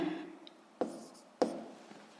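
Writing during a seventh-grade physics lesson: soft, close scratching strokes with a couple of sharper taps, alone and without talk.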